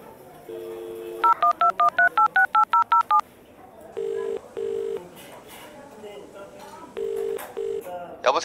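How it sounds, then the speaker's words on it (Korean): Telephone dialing tones: a quick run of about ten evenly spaced keypad beeps, then pairs of longer tones repeating, clear and close, with voices talking over parts of it. "이제 팀한테 전화해봐야겠다."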